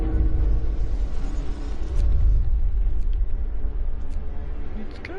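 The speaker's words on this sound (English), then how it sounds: "The storm's coming for us." Deep, loud, continuous rumble of an approaching storm in the Frostpunk video game, a heavy low roar that swells slightly midway, with faint higher creaks and ticks scattered over it.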